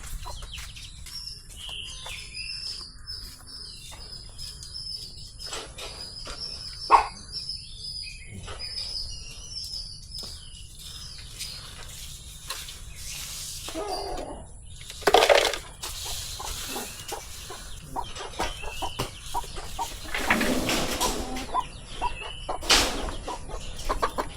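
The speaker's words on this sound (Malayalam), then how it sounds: "കോഴികളും കുഞ്ഞുങ്ങളും ദേ ഇവിടെ ഇങ്ങനെ ഓടി കിടക്കുന്നുണ്ട്" Chicks peep in thin, high chirps while hens cluck now and then in a village yard. A few sharper knocks and scuffs come from nearby.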